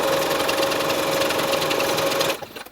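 A sewing machine runs steadily, stitching quilt batting onto the fabric body of a pencil case. The motor whirs loud and close without a break, then stops near the end.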